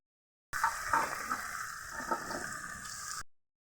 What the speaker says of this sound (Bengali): ডালটা ভালো করে ভাজা হয়ে গেছে